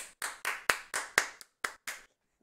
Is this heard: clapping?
yes